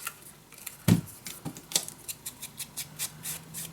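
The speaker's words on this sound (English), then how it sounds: "just grab a leftover piece, and then you just cut this down also, of course." Scissors cut down a leftover piece of paper to make a craft tag, giving a close run of quick, evenly spaced snips, a few of them sharper than the rest, with no one speaking.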